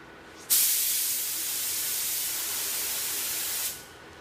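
A paint spray gun hisses in one steady burst lasting about three seconds, close and loud, then cuts off.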